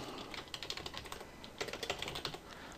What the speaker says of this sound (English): you're going to type ping, and you're going to type whatever the public IP address is